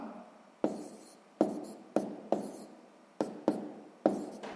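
Pen strokes scratch on paper as numbers are written by hand for a column multiplication sum: about eight short, close scribbling bursts separated by brief pauses, with no voices.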